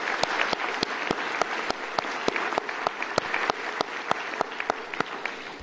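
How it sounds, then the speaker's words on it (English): Audience applause at a civic resource center grand opening, a dense, steady round of many hands clapping with sharp individual claps standing out throughout. "please give her a round of applause for all the work she's done"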